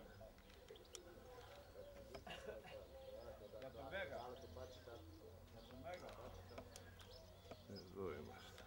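Soft pigeon coos and occasional chirps repeat under steady nearby talk from several people.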